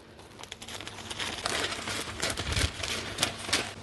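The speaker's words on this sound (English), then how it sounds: "Then I'm going to cut it using the scissors." Crisp snipping and crinkling of paper being cut, a series of short irregular snips close up, with no talking.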